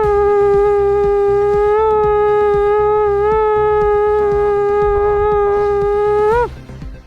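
A voice imitates a conch shell horn with a long, steady, buzzing tone held for about six seconds, loud and close, ending with a brief upward flick.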